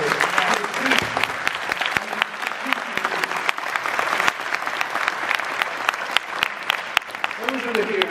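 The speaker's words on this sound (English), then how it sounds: "Can I just ask you to give a round of applause?" An audience applauding in a hall after a call to honour people who stood up for the children, steady dense clapping over about eight seconds with some voices mixed in.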